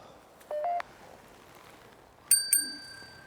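A small handheld bell sounds during a night ghost investigation at Cannock Chase, giving a brief ting early on and then two bright rings close together, near and clear against a quiet background.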